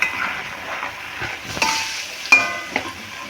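A spoon scrapes and stirs spice masala made with Kashmiri red chili powder and potatoes in a pan for a mock egg curry, with a soft sizzle and a few sharper metallic scrapes and knocks.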